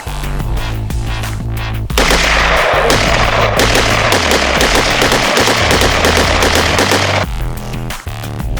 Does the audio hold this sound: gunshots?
yes